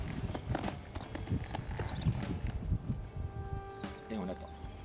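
A horse shifts its hooves with several clip-clop steps on the ground as a rider mounts it, close and moderately loud, with faint birdsong in the background.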